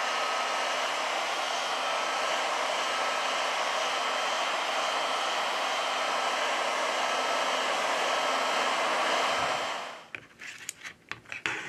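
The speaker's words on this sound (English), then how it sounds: "With the help of a heat gun, we apply 90 Celsius degrees during 4 minutes." A heat gun warms an LG Wing 5G phone to soften its battery adhesive, giving a loud, steady blowing roar for about ten seconds before cutting off into a few faint clicks and handling taps.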